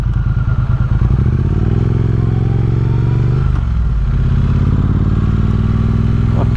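A 900 cc Triumph Speed Twin 900 twin-cylinder motorcycle, an A2-restricted 2024 model, throbs loud and close with a deep uneven beat, revving up and settling back.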